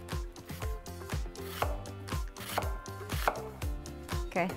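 A knife cuts onions into thin half rings for beef lo mein, giving a close, regular series of crisp chopping thuds on a board, about two per second, with no talking.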